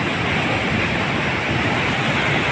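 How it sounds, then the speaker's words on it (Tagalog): A swollen river rushes with a strong current during a typhoon, producing a loud, constant broadband roar of moving water with no break. "Malakas ang agos ng tubig."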